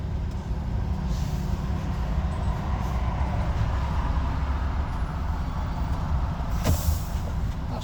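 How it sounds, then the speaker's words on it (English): An HGV truck's air handbrake is applied from the cab: a short, sharp hiss of released air near the end, over a steady low engine rumble. "That's my handbrake going on."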